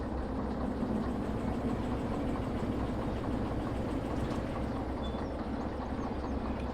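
A locomotive engine idles in Derail Valley with a low, steady, faint rumble and no break in the sound.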